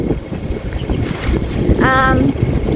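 Steady gusting wind rumbles across the microphone while walking outdoors in Hong Kong, a continuous low roar with a brief tonal whine partway through.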